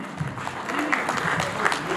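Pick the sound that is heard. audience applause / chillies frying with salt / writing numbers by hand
audience applause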